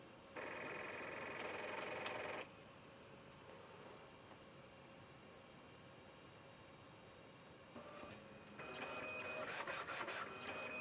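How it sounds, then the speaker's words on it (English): A 3D printer with sensorless X and Y homing and a Z-axis end stop whirs and buzzes through moves and homing, loud stepper bursts broken by a quieter steady hum, with no talking. "So I guess I have a dancing printer right now."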